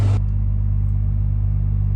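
An old truck's engine catches after a brief burst of starter noise in cold weather, about 26 degrees, then settles into a loud, steady low idle rumble.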